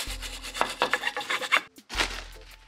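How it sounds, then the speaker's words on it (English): A wheel hub on a GMC Sierra AT4 is scrubbed with a wire brush, with a quick series of rasping strokes, a brief pause, then one more longer scrub; no speech. "I'm just gonna wire brush it a little bit, make sure it's clean"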